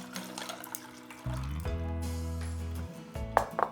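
Ice and cold water pour into a container to dilute a sugary, salty aromatic brine for pork chops. A close splashing pour fills the middle of the clip and sits between lighter clinks and trickles, with no talking.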